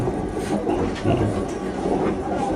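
A Jenggala commuter train on the Surabaya Pasar Turi to Sidoarjo line runs along the rails with a steady loud rumble and faint clatter, heard from inside the carriage, continuous throughout.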